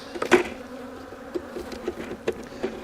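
Honey bees buzz steadily around a struggling hive during an inspection, a close, sustained drone with a few sharper knocks and taps breaking through.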